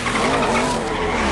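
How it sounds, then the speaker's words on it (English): A race car's tires squeal in a high, wavering skid with a whistling, dolphin-like chirp over the engine roar, loud and continuous for a moment. "at one point, a race car makes a dolphin sound effect"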